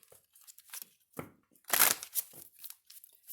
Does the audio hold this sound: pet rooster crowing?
no